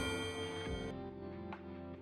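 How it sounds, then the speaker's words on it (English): A large clock strikes eight in a grand hall during a video game event, its resonant chime ringing with sustained tones and a second strike about a second later, reverberating steadily with no talking. "As soon as it strikes 8, its resonant chime echoes through the hall."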